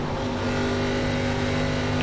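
A race car in the ARCA Series at Dover International Speedway in iRacing, its engine a loud, steady high-pitched whine with a slight rise as it drives close by, with no voices.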